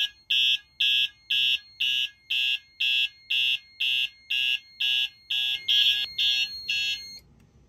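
A vintage EHEL1 fire alarm device sounds during a system test, giving a loud, shrill, evenly pulsed electronic tone that repeats about a dozen times in steady rhythm, with faint background noise near the end.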